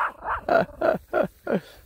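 A spaniel guarding a house along a pilgrimage trail barks in a quick series of four or five sharp, close barks with slight whimpering tones.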